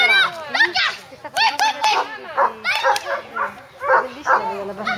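A little dog at a junior agility competition gives repeated quick, high yips and barks up close. A person talks over the barking throughout.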